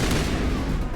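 Burst of gunfire in Mass Effect, a dense, loud, continuous rattle of shots lasting about a second, with no voices.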